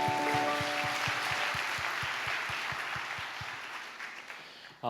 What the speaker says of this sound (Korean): 우리 그렇게 일하실 하나님께 감사의 박수 드립시다.